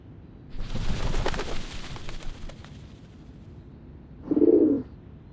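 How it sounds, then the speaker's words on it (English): Doves of the Whitestone House in the video game Reverse: 1999 give a short, low cooing call near the end, after a louder burst of rumbling game ambience. "The doves of the Whitestone House are here."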